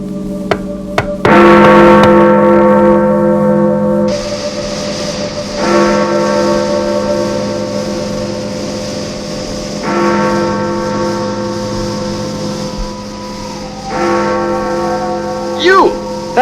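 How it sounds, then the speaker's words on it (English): Chimes ring out in loud, sustained tonal phrases that repeat at intervals of about four seconds, each ringing note decaying slowly into the next. "Interesting chimes you have there."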